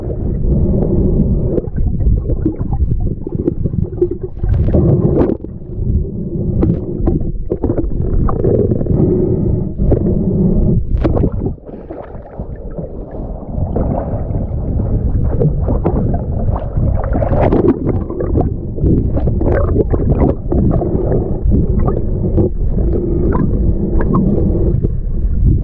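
Water churns and splashes heavily and continuously as someone swims while dragging a kayak across Rocky Lake in Nova Scotia. The sound is close and muffled, like it is heard partly underwater, with brief pauses in the turbulence.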